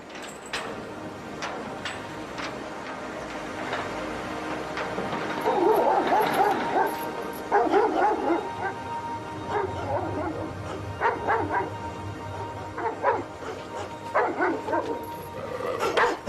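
Doberman dog in a video game barking and yipping repeatedly in short bursts, with whimpers, moderately close over a steady background and faint talk.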